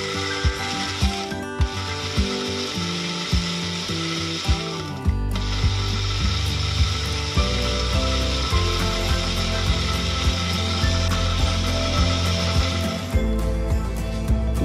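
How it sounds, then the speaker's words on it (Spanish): A blender purees aloe vera and ginger, its motor running steadily and then surging louder after a few seconds, a close, buzzing whir with rattling that holds until near the end, without any speech. "Vamos a proceder a licuar."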